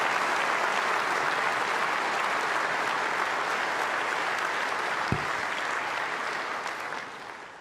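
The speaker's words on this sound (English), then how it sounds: "could I ask for another moment of applause for those who have played and sung so beautifully for us?" Outdoor crowd applause at an Anzac Day march in Perth, honouring a choir and band: a broad, steady wash of many hands clapping throughout, fading slightly toward the end, with one brief low thump partway through.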